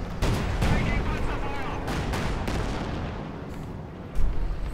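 In a Company of Heroes 2 battle, booming shots from an SU-85 tank destroyer and rifle fire from G43-armed infantry crack in loud bursts, with a spoken voice running over the fighting.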